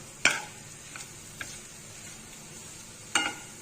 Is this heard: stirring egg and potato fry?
yes